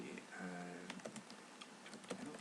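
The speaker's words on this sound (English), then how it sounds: "you want to see what you're actually typing" Quick, irregular keystrokes on a computer keyboard as a username and password are entered, a light close clatter of taps in short bursts with brief pauses, no voices.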